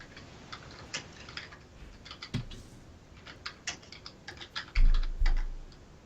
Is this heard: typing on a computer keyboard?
yes